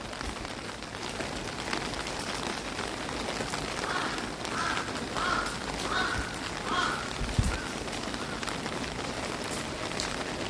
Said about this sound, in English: I hear a crow.